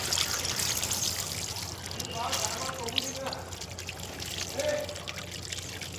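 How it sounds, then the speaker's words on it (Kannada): Water poured slowly from a pipe into a garden pot, a soft steady trickle running quietly throughout with light background noise. "ಇವಾಗ ನಾನು ನಿಧಾನಕ್ಕೆ ಪೈಪಲ್ಲಿ ನೀರು ಹಾಕ್ತಾಯಿದ್ದೀನಿ"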